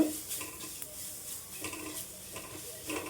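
Ajwain (karpooravalli) leaves frying in a pan, with a soft steady sizzle broken by rhythmic scraping and stirring strokes of a utensil against the pan, close up and without talk.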